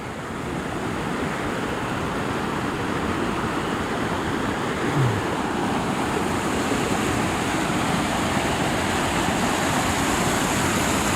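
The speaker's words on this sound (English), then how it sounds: "let the creek put me to sleep" Steady broadband rush of a flowing creek in the Indian Peaks Wilderness, continuous and fairly loud throughout, like a nearby stream running over rocks, with no voices.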